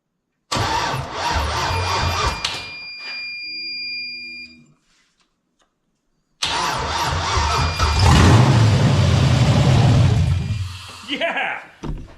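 An LS swap engine is cranked for its first start, cuts out, then fires and settles into a loud, close idle with a few blips of throttle, with voices audible over it.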